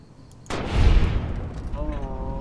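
A single sharp gunshot in the Fallout: New Vegas video game, close and loud, followed by a decaying rumble and a faint tonal ring.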